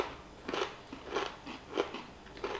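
Crunchy low carb cereal chewed close to the mic: four evenly spaced, crisp crunching bites, fairly loud and dry, with no talking.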